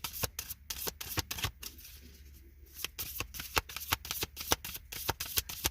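Star Codes Astro oracle cards are shuffled by hand in quick, close, crisp riffles and slaps, a rapid uneven run of card snaps with short gaps between bursts.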